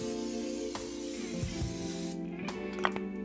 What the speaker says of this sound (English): I'm just gonna use a vegetable oil spray.